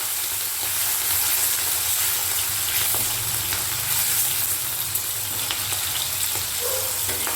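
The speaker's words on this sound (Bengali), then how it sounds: "তাহলে মাছটা আমি হালকা করে ভেজে নিই" Hilsa fish pieces frying lightly in oil give off a continuous close sizzle with faint crackles and a low hum underneath, no voices.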